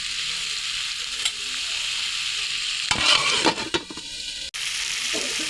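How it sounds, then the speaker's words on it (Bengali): Pumpkin and Malabar spinach stems sauté in a hot pan with a steady sizzle, broken midway by a few scraping stirs and clatters, close and alone with no talk. "এখন একটু কিছুক্ষণ কষিয়ে নেব।"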